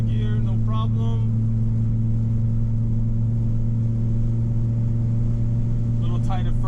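An Audi UrS4 with a 20-valve turbo engine drives through its gears after a transmission swap, giving a loud, steady droning engine hum that fills the clip, with brief wind or road noise bursts near the start and end.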